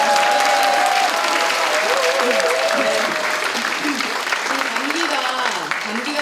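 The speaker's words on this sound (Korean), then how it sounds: "박수 주세요" An audience at a Korean welfare-policy talk concert applauds steadily for several seconds, sustained clapping with a faint voice over the crowd.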